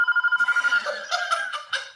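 A mobile phone ringtone trills in quick repeated pulses, then a voice talks over it as the ringing carries on.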